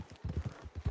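Horse hooves clip-clop in the Red Dead Redemption 2 video game, a quick steady trot of heavy close thuds, several beats in about a second.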